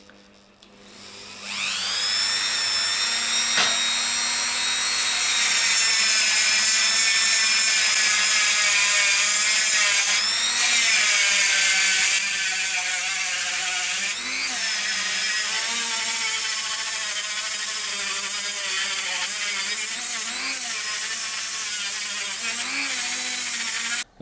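A Dremel rotary tool grinds down a weld during a steering damper install on a DR650 motorcycle. The shrill, buzzing whine starts after a brief quiet lead-in and runs continuously at close range, with its pitch wavering as the load changes.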